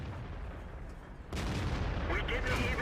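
Artillery fire in a tank game replay: a sudden deep boom breaks in halfway through and leaves a sustained loud rumble, heard beneath a speaking voice.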